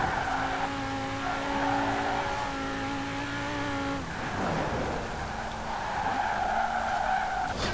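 A 1993 Porsche 928 GTS in Forza Horizon 4 drives at speed, its engine droning steadily, then its tires squeal and skid loudly mid-clip before the engine note picks back up.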